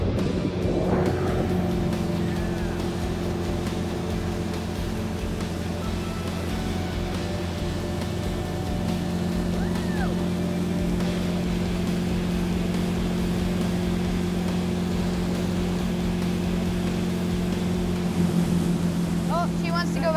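A steady motorboat engine drones throughout while pulling a wakeboarder, loud and continuous, with water and wind noise around it and faint voices now and then.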